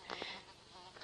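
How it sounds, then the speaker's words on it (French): Flies buzz in a cottage, with a faint, steady insect hum and a few brief louder passes near the start. "les mouches sont réveillées"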